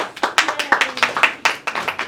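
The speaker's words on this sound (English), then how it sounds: "Give yourselves another round of applause." Audience at a poetry slam clapping in a sparse, uneven patter of individual hand claps close by, a small group rather than a large crowd.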